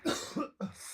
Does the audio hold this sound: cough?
yes